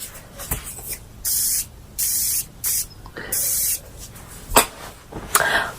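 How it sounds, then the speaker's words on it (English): Several quick bursts of hissing spray, each about half a second, pumped in an uneven series close by from a spray bottle onto a makeup sponge, with small handling noises between them. "you're just gonna grab your beauty blender. I'm gonna spray it."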